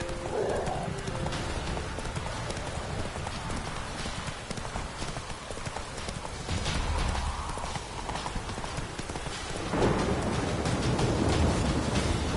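A horse in The Witcher 3 gallops with rapid, continuous hoofbeat clip-clop over a dense game soundscape, with a brief whinny; steady and loud throughout.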